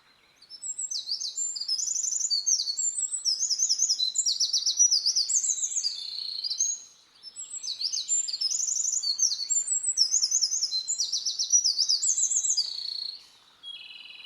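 A wren sings loud, rapid trilling phrases close by, two long bursts of high chattering song separated by a brief pause, with no voices.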